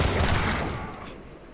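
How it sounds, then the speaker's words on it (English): Light cannons firing in Age of Empires 3 Definitive Edition: a dense, rumbling volley of booming blasts that starts loud and slowly fades away, with no voices over it. "Light cannons can return fire"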